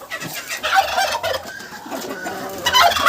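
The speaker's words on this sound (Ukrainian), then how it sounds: "Індик он свариться, сміється з вас." A farmyard turkey gobbles among poultry at feeding time, bursts of rapid warbling calls recurring through a busy, noisy stretch, fairly close with other bird sounds around it.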